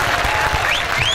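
Festival crowd at a Jovem Guarda 30th anniversary show in Vale do Anhangabaú, São Paulo, giving a brief burst of clapping and cheering, with whistles rising over the applause.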